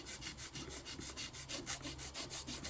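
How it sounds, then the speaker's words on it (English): A coarse file rubbing on an acrylic shower hose part makes a quiet, rhythmic rasping, with steady back-and-forth strokes at roughly five per second. "I am, for the next minute, going to use a coarser file."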